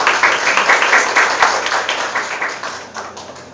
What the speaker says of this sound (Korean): 발표와 질의응답에 고생해주신 대표님께 박수 부탁드립니다